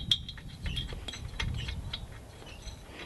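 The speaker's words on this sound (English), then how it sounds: "Now I'm going to take the spark plug and screw it in." Small metallic clicks and ratcheting taps as a spark plug fitted with a temperature sensor is screwed into a paramotor engine cylinder head, quiet and close.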